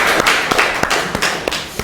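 Scattered hand claps from a small audience at a book presentation and signing ceremony, several distinct claps over under two seconds, fairly close and irregular rather than a full ovation.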